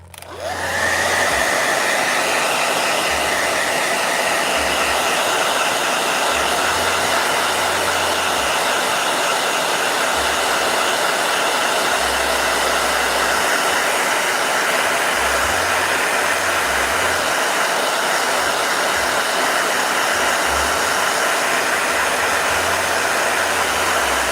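A hair dryer switches on and blows with a steady, loud, whooshing hiss that holds constant for a long stretch, with no voices.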